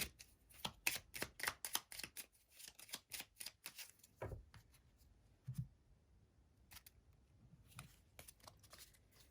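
Fortune cookie oracle cards being handled and shuffled, a quick run of crisp riffling slaps at first, then sparser soft card taps and slides, close and quiet, no talking.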